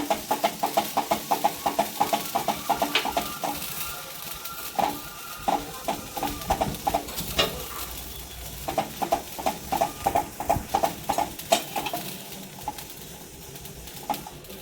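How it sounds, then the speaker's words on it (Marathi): Amaranth seeds popping in a hot pan, a rapid, irregular crackle of small pops that continues steadily throughout, close and moderately loud. "तडतड वाजायचं बंद झालं का काढून घ्यायच्या"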